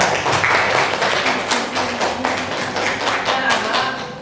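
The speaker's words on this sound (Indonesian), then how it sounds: "Tepuk tangan untuk kelas 9H" A classroom of students applauds for class 9H, a steady dense patter of many hands clapping together at close range, with faint voices mixed into the crowd noise.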